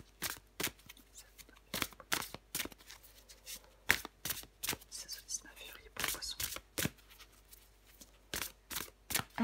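Tarot cards are shuffled in quick, crisp bursts that come close and repeat in an irregular rhythm, with soft whispered French speech in the gaps between them.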